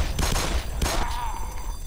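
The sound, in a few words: gunfire shooting zombies in video game Black Mesa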